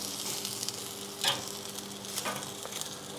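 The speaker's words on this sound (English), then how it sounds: "I'm gonna crisp up that skin just a little bit." Chicken thighs sizzling skin side down in a pan as the skin crisps, a quiet steady hiss with a few sharper crackles and stirring touches, no talk.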